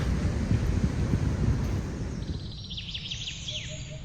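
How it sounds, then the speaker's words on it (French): Steady wash of wind and breaking surf outdoors on the Pangalanes Canal coast of Madagascar, with a few faint bird chirps appearing toward the end. "le brouhaha de la ville a laissé place au bruit des vagues et de la nature"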